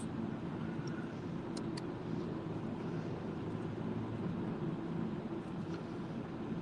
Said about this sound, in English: Wait for the cars to pass.